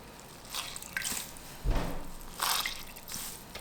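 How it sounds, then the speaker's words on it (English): A soaked crochet piece is wrung out by hand, giving soft squishing drips and a few brief splashing bursts of water, close and fairly quiet, with no talking. "Just gonna squeeze out this water."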